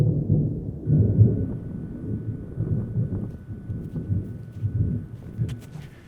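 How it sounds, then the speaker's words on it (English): Low, rolling thunder rumbles continuously through a windy storm, deep and heavy, with faint rain hiss above it. "Looks like there's a storm coming up."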